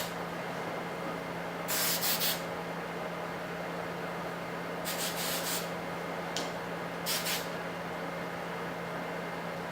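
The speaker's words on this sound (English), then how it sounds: "I just put a teeny bit of this in my hair" Hairspray sprays onto curled hair in a few short hissing bursts, two longer and two brief, close and fairly soft against a quiet room hum.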